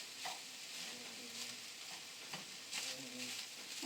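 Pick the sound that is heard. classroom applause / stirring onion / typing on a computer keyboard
stirring onion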